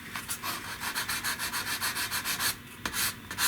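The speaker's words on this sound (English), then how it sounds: "just focus on only sanding the high point of that little seam" Sandpaper rubbing back and forth over a seam on an Estes Big Bertha model rocket, steady rhythmic scratchy strokes, close and clear, with no one talking.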